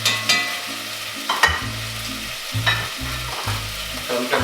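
Beef pieces for beef bourguignon sear in a hot pan, a steady close sizzle broken by thuds and scrapes as meat is turned and stirred, with low tonal hum underneath and no voices.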